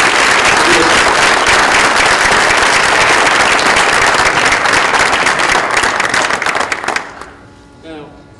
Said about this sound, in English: please give a round of applause to your president